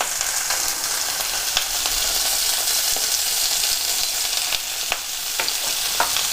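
Sous-vide pork tenderloin (filet mignon de porc) sears in a hot pan, giving a loud continuous sizzle and crackle with occasional sharper pops throughout.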